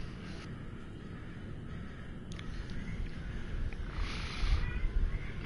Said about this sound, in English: Hello, kitty cat.